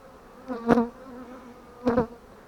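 Two short buzzing swells from a honeybee passing close by a hive, rising and fading against a faint background hum.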